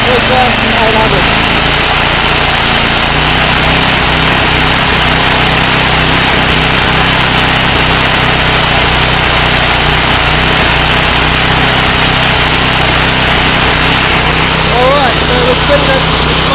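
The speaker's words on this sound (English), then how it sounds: "We're spinning at the smart drive at 633 RPM" A Fisher and Paykel Smart Drive washing machine motor spins on a test bench at about 633 RPM, giving a loud, steady electric whine with a constant hum, running continuously without pause.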